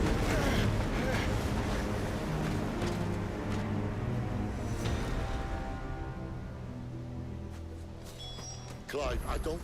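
Stormy, gusting wind in Final Fantasy XVI, a heavy low roar that swells and slowly eases, with characters speaking over it near the end.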